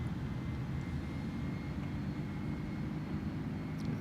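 Jet engines of an Airbus A310-300 in Microsoft Flight Simulator at about half throttle during takeoff, a steady, moderately quiet roar with a constant drone and no talk.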